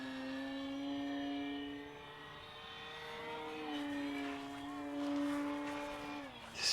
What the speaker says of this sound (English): let's take her up. Let's do a nice stock takeoff